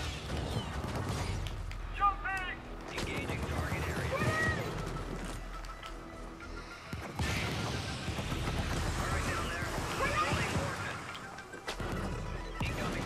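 Gunfire and explosive blasts from the co-op shooter game Helldivers, with impacts and crashes against tankbugs, dense and loud throughout, mixed with players talking.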